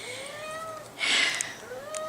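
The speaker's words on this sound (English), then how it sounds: "The cats is driving me crazy." Cats meow in a room, one rising-falling cry drawn out over a few seconds with a louder, brighter burst in the middle, heard alone against a quiet background.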